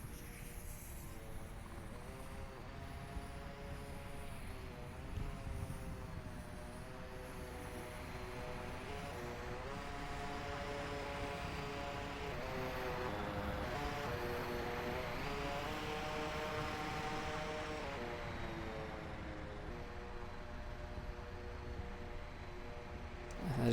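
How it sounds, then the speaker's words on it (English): A drone hovering and maneuvering in the VR shooter Onward, a continuous buzzing whine whose pitch rises and falls as it moves, fairly faint and unbroken, with no talk over it. "I'm just gonna land the drone there and let it make sound cover."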